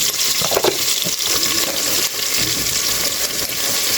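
Chopped onions hitting hot oil in a pot for a Bangladeshi-Pakistani beef curry, giving a steady loud sizzle and crackle with occasional stirring, no voices.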